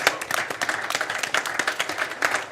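Applause for a team called on stage at a cleantech summit, heard as a scattered, moderately loud run of individual claps from a modest audience, the irregular pattern continuing steadily for a couple of seconds.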